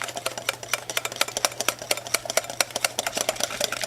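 A whisk beating hollandaise sauce in a bowl gives fast, steady metallic clicks and scrapes in a regular rhythm, close up, with a low hum running underneath.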